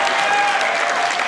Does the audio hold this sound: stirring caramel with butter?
no